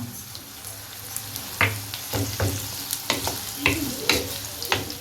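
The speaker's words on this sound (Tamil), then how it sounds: "இதை நல்ல பொன்னிறமாக வதக்கி எடுத்துக்கலாம்" Salted onions sautéing in a pan for Chettinad pepper chicken sukka crackle with a constant close sizzle, broken every half second or so by the scrape and clatter of a spoon stirring them.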